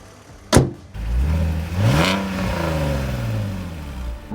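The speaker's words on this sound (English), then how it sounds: "we need to take it for a drive" A BMW car pulls away after a sharp click, its engine note rising steadily as it accelerates, loud and close with a whirring drone carrying through to the end.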